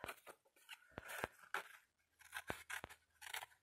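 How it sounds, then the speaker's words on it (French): Small scissors snip through material while making cases for a blooming flower box, giving a quick series of close, crisp cuts and crunchy clips in an irregular rhythm. "j'ai pris les tout petits ciseaux"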